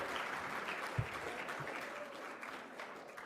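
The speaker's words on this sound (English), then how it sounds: "please give them a round of applause" Audience applause at an election-night event in Virginia, a steady, fairly loud clapping wash from a crowd lasting the whole moment with a single sharper clap near the start.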